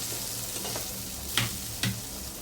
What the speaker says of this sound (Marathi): आता हे मसाल्यांसोबत एकजीव होण्यासाठी मी व्यवस्थित परतते तेलामध्ये